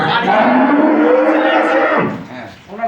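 A dairy cow at a Rangpur cattle market lets out one long, loud, close moo that fills nearly three seconds, fading at the end into a little background noise.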